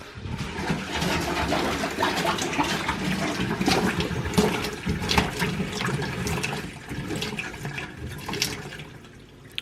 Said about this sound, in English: hot water starts to drain, and now we don't have any more hot water